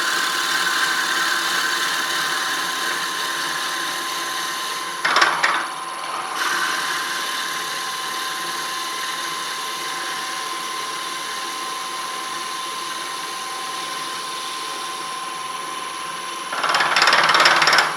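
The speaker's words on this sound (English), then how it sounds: "I've got my wood in there, and I'm going to just drill this in nice and slow" A steady mechanical whir of a drill bit boring slowly into a wooden pen blank runs throughout, close and continuous, with short bursts of louder grinding near the start and again at the end.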